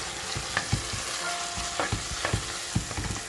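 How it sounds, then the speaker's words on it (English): Coarsely crushed ginger and garlic sizzle and fry in a pan while a spoon stirs, giving a steady hiss broken by repeated scraping knocks. "Next add ginger garlic coarsely crushed. Mix it well."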